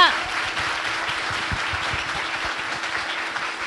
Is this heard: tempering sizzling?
no